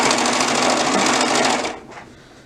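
A sewing machine stitches elastic into a pant waistband in a steady, fast, continuous whir that runs up close for about a second and a half, then stops and leaves a faint tail of quiet handling.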